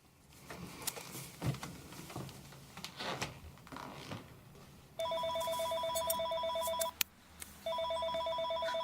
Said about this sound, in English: Now he's calling the home phone.